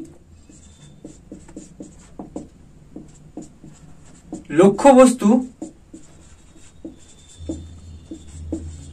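Chalk or marker scratching out physics equations on a board during a class lesson, with short taps and strokes that build to one louder, longer scrawl midway, then lighter marks; a teacher's voice is faintly present.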